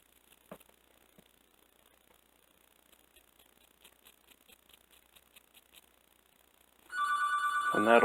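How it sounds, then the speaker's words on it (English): A telephone bell starts ringing near the end after quiet faint ticking, a loud, sustained electronic ring that continues to the close. "And why is the phone ringing?"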